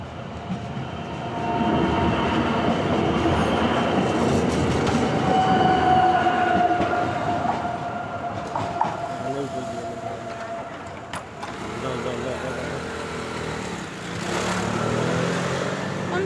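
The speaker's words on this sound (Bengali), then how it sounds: "ট্রেন আসতেছে" A train pulling into a station in Italy, its rumble swelling and holding with a long high squeal of wheels, clicks of the cars, then easing off, while people talk nearby.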